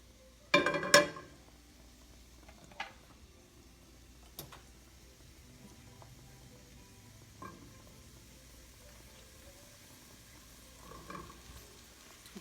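Mushrooms frying in a pan, a faint steady sizzle with a few louder stirring clinks and scrapes near the start and occasional soft knocks afterward.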